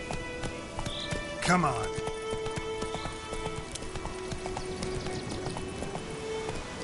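Roach, the horse in the video game The Witcher 3: Wild Hunt, gallops with a steady clip-clop of hooves under a rider's spoken urging and a short whinny-like burst.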